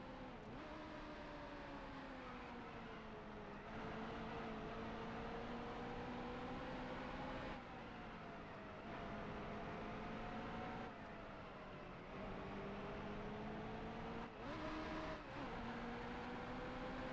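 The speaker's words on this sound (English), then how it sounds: "Now that downshift was on purpose" A stock car in the NASCAR Heat Evolution racing game drones at a steady engine pitch that drops and shifts several times as gears change, faint and continuous, with no voices.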